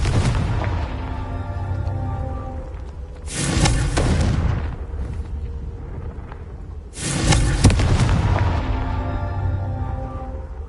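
Two big blasting-spell explosions from a Harry Potter video game, each a loud broadband boom with a crackling tail, around four and eight seconds, over a steady background rumble.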